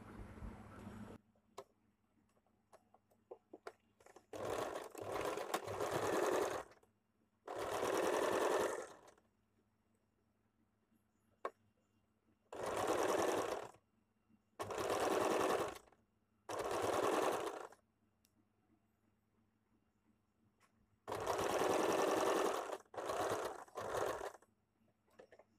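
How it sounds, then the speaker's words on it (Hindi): A sewing machine stitches a princess cut blouse in several separate bursts of steady, rapid mechanical running. Quiet pauses fall between the bursts, and no one speaks. "यहाँ पे इस तरह से सिलाई लगा लूंगी।"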